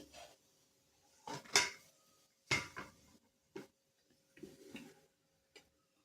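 A metal dosa tawa set down on a gas stove in a home kitchen, giving several separate clanks and knocks, one louder hard impact, then lighter taps spread apart, heard close with no talking.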